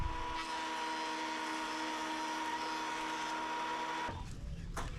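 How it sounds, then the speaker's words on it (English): A Craftsman benchtop jointer squares small wood pieces, giving a loud, steady motor whine with a harsh cutting roar for about four seconds before it suddenly drops away into quieter rumble and clatter. "We're going to go ahead and send all of these little pieces through the joiner to get them nice and square."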